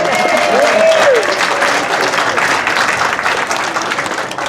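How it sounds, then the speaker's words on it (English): A crowd at a Philippine Weekend event applauds in a full, loud wash of clapping that slowly tapers, with a voice briefly audible over it. "Give her applause"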